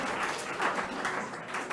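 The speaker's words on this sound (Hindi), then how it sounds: "बजाओ ताली।" An audience at a career guidance session claps together, a brief dense patter of applause at moderate distance lasting under two seconds.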